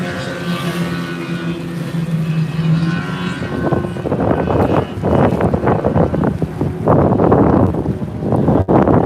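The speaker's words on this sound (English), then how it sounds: "Robbie Mould down, Smoking the Bandit 2 with his 175 horsepower Yamaha four-stroke engine." A 175 horsepower Yamaha four-stroke engine drives a racing boat in an F1-class powerboat race, droning with steady tones at first, then giving way to a loud, rough roar buffeted by heavy wind noise.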